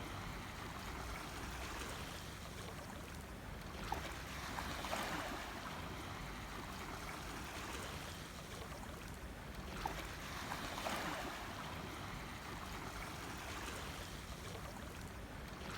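Dhow cruise boat sailing on the water in Dubai at night, a soft continuous wash of water and hull noise with gentle swells rising and falling, fairly faint and steady with no voices.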